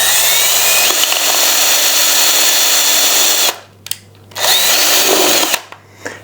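A power drill whirs loudly and steadily for several seconds, stops, then runs in two more short bursts with brief pauses between.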